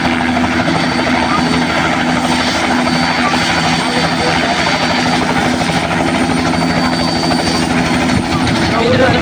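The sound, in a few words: helicopter flying at a wedding procession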